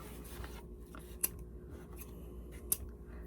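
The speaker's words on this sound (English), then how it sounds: "I need my scissors." Scissors cutting fabric for a handmade primitive Americana stump doll, two sharp snips a second or so apart over quiet rustling, close and clear with no talking.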